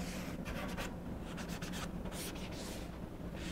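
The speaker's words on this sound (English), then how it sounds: "gonna give it a light back and forth sand to clean off any leftover little nibs or things" Sandpaper is rubbed lightly back and forth by hand over a wooden cornhole board, making a soft, continuous scratchy swish in quick strokes, close and alone.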